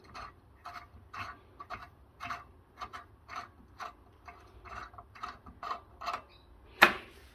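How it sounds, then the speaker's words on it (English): A wrench works a bolt loose on a belt and disc sander, making a steady series of rasping, ratcheting strokes at close range, then one sharp metallic click near the end. "So you just undo that bolt."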